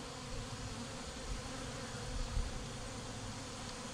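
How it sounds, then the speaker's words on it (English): Honey bees hum steadily around honey frames that were just spun in an extractor, with a dense, continuous, moderately close buzz and no voices. "the bees can climb up and clean them out"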